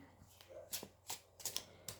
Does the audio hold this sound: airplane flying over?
no